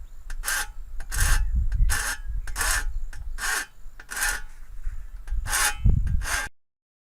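A hand file rasps repeatedly along the edge of a scythe blade under repair, about ten strong strokes in steady rhythm, loud and close with no talking.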